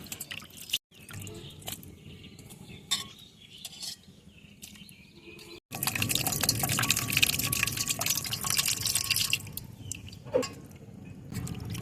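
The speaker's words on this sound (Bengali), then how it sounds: "এটা বারবার এভাবে পরিষ্কার করে ধুয়ে নেব" Fish being washed in a bowl of water: soft drips and trickles at first, then a louder, sustained stretch of splashing and sloshing as the fish are rinsed by hand.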